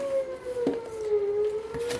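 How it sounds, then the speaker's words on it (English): An outdoor tornado siren wails on a Saturday, a faint steady tone from the distance that holds through the whole short stretch with a few soft background knocks. "It's Saturday and the tornado sirens is in my backyard."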